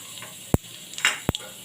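Cumin seeds and chillies tempering in hot oil in a kadai for dal, giving a faint sizzle broken by two sharp pops and a brief hissing flare between them.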